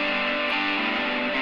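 An electric guitar with saturation holds a dense, sustained chord, a thick distorted tone ringing steadily and close for about a second and a half.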